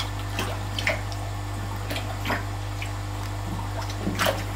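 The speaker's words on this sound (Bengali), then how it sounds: "আমি সাবমার্সিবল চালিয়ে জল কিন্তু কমিয়ে দিচ্ছি এখান থেকে" A submersible pump draining water from a biofloc fish tank gives a steady low hum, with intermittent splashing and trickling water over it and no talk.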